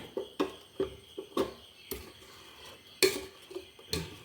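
A ladle stirs vattayappam batter in a bowl, giving close, repeated scraping clinks and knocks in an uneven rhythm, with no voices.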